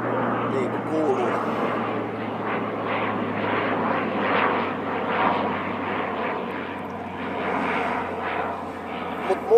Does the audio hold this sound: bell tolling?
no